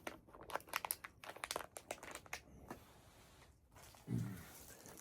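A foil-lined trail food pouch is folded down by hand on the Appalachian Trail, giving a run of close, sharp crinkling bursts over several seconds before a quieter pause.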